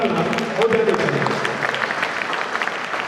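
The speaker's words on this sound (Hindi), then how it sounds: "इसी बात पर जोरदार तालियां हो जानी चाहिए" Audience applause at a Hindi national poetry gathering (kavi sammelan), a dense, steady clapping that fills the whole stretch, with some voices audible beneath it.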